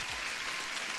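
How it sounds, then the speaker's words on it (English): A short, dense burst of applause fills the whole moment, steady and close, during a live futures-trading stream greeting a viewer. "Huge applause."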